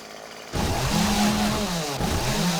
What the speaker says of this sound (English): Whereas with the chainsaw,